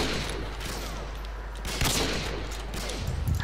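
Bursts of rapid gunfire in Call of Duty: Modern Warfare 2, with sharp cracks and a heavier boom near the end over a low background rumble.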